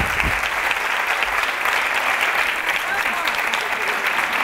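An evening audience at a public talk gives loud, sustained applause, a dense, even roar of clapping that fills the whole stretch without a break.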